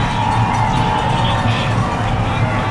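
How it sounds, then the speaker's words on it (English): A crowd at a varsity football playoff game between Arrowhead and Sussex Hamilton cheers and roars continuously, loud and dense, with scattered shouts blending into the broad wash of noise. "You hear the crowd finally getting into it."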